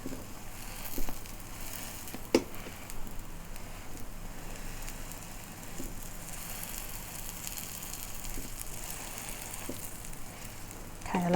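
An egg frying in a pan gives a steady soft sizzle with faint crackles and pops throughout, heard close and alone with no talking.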